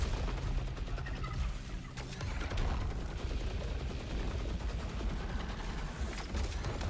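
Continuous automatic gunfire from auto-targeting bullets in the action game SAROS, a dense rattling stream of shots with booms and mechanical effects, steady and loud throughout without talk.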